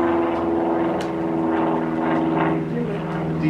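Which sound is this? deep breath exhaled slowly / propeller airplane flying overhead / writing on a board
propeller airplane flying overhead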